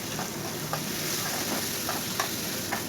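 Chopped large onions fry in a pan with a steady, even sizzle, and a spoon scrapes through them in soft, intermittent strokes. The sound is close and continuous, and nobody speaks.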